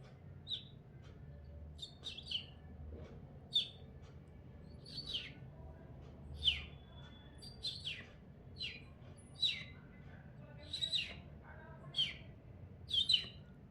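A voice imitates house sparrow chirps, giving short, bright, high chirps one or two at a time in a loose, irregular rhythm. The chirps are faint over a quiet low background hum.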